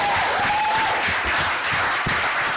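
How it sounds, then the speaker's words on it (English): An audience at a youth Bible quiz contest applauds the contestants, a dense continuous wash of clapping from a crowd, steady and fairly loud throughout with no speech. "I ask the audience for a massive round of applause for our 2 dear contestants."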